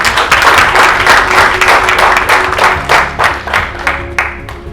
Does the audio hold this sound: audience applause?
yes